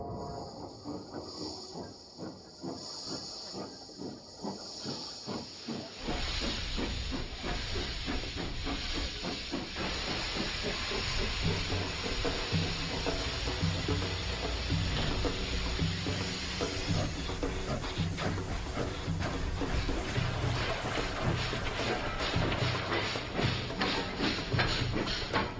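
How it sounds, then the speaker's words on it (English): A working steam train at the Sandailing coal mine in Hami, Xinjiang, gives off loud, continuous steam hissing over rapid rhythmic chuffing, which swells after a quieter opening. "Here, the world's last working steam trains are still in a race against time."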